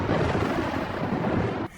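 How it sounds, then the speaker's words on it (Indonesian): Deep, loud thunder rumbles steadily in a horror film, a dense low roar sustained for about a second and a half before cutting off abruptly into quiet. "Gemuruh petir yang menyambar membuat gadis itu terkejut hingga terbangun dari mimpi panjang."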